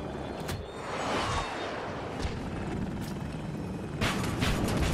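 KA-52 attack helicopter in the video game Battlefield 2042 on the Exposure map, a continuous loud rotor and engine roar with a few sharp impacts and booms layered over it.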